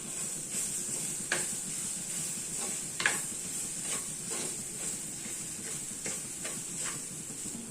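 Beetroot thoran cooking in a pan gives off a faint, steady sizzle and hiss, and a spoon stirring it makes occasional soft ticks and scrapes. Close and quiet, with no talking.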